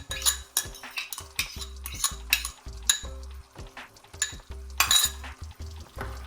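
A utensil stirs beaten yogurt into karahi gosht in a metal pot, giving repeated sharp scrapes and clinks against the pot in an uneven rhythm, close up with a faint sizzle beneath.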